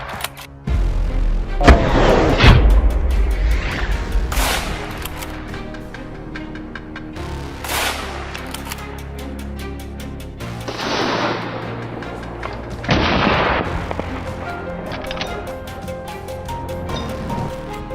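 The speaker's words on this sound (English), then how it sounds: "After one shot, this wild boar fell." Booming gunshots ring out during a wild boar hunt in farm fields, with a few loud reports spaced several seconds apart and ringing tails over a music bed.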